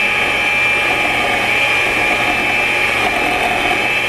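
An electric mixer beats cheesecake batter in a bowl with a loud, steady, high-pitched whir that runs unbroken and close throughout, with no talking.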